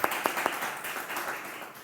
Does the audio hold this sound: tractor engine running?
no